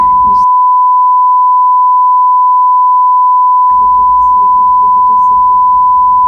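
A loud, steady censor bleep tone runs through the whole stretch, with muffled speech underneath at the start and end.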